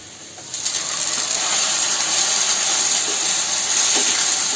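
Ground paste dropped into fried onions in a pan, setting off a sudden loud sizzle that turns into a steady bright hiss for several seconds.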